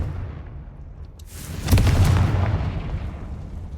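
A Confringo spell blast in a wizarding video game, a single deep booming explosion that swells suddenly and rumbles on while fading, with no talking.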